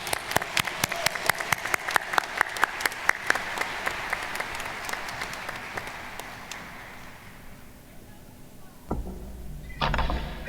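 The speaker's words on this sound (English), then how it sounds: "Let us all applaud the class of 2021." Commencement audience at a 2021 nursing and graduate ceremony applauding the graduating class: dense, loud clapping for about seven seconds that thins and fades, followed by quiet and a couple of thumps near the end.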